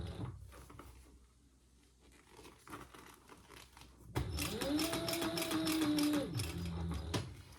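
A sewing machine stitches two layers of fabric for a bag. Quiet handling rustles come first, then the machine whirs steadily and close for about three seconds before slowing.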